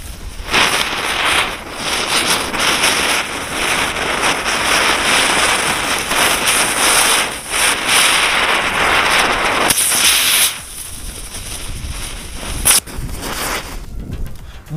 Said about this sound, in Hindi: अब बारी हमारे मियां बीवी वाली चक्री की